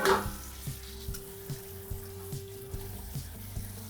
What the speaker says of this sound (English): we're gonna give it a good rinse and just wash off that excess salt